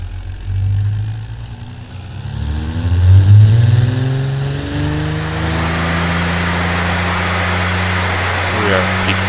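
A simulated inline-six car engine in the Automation game idles, then revs up to a sustained higher drone, loud and close, with rising harmonic tones.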